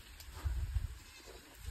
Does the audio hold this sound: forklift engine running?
no